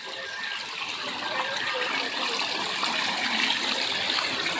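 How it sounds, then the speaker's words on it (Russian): Splashing fountain in a children's park in Abakan, a steady broadband rush of falling water heard up close, continuous and fairly loud. "Какой-то интересный фонтанчик."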